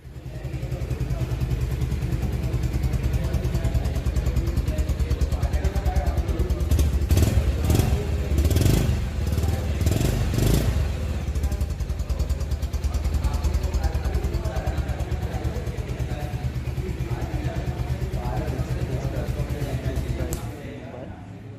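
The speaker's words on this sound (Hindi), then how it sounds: "चलिए सुनते हैं इसका एक शॉर्ट एग्जॉस्ट नोट।" Bajaj Pulsar 150 Neon motorcycle from 2019 idling close by, its steady exhaust note running throughout with a brief throttle blip in the middle and a few rattly clatters, fading slightly at the very end.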